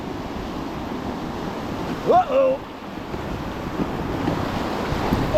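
Whitewater rapids on a river during rafting, a constant close roaring wash of churning water, with a brief exclamation from a rafter partway through.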